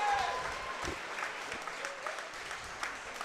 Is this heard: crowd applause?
yes